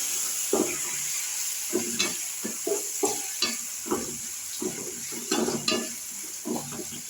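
Thuthuvalai leaves fry and get stirred in a pan for a chutney, with a steady background sizzle broken by repeated scraping and stirring clatters at close range.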